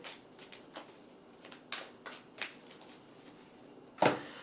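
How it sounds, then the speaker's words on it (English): Cards riffled and shuffled in a series of quick, soft bursts, ending with a sharper, louder riffle; no one speaks. "Okay, last shuffle."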